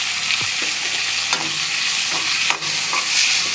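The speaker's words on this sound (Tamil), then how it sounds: "இது நல்லா வதக்கிட்டே இருக்கணும்ப்பா, கொஞ்சம் செவக்கட்டும்." Onions are sautéed and stirred in a pan for a Tamil dry-ginger spicy kuzhambu, giving a steady close sizzle with repeated scraping and stirring strokes throughout, and nobody speaks.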